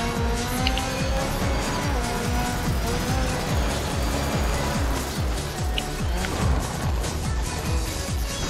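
A car drives steadily at speed with a continuous engine drone and tire noise, recorded from inside or close behind, loud throughout and with no clear speech.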